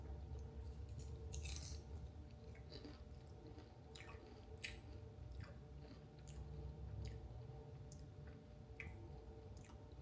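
Quiet close chewing of low-carb nachos made with Quest taco chips and topped with cottage cheese, with soft wet squishes and occasional crunchy bites over a steady low hum.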